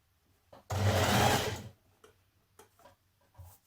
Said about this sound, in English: I'm going to zigzag stitch that around